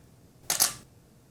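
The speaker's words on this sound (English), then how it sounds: "we are going to take a shot just to hear the sound of the shutter" A single-lens reflex camera shutter fires once up close, giving two quick crisp mechanical clicks a fraction of a second apart as it opens and closes, with nothing else around it.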